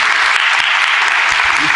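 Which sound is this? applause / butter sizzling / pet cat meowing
applause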